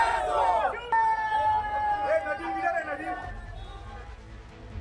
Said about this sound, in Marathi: शिंदे शिवसेना आणि काँग्रेस कार्यकर्त्यांनी मोठा जल्लोष साजरा करत आनंद व्यक्त केलाय